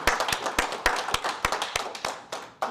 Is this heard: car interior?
no